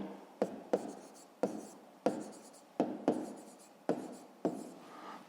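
A pen writes an answer on paper in a close, quiet run of short scratchy strokes, each opening with a small tap, about eight in a steady rhythm.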